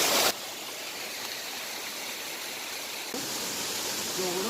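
A hillside stream in Satara pours over mossy rocks near a screwpine grove, making a loud, steady, close rushing roar with no break.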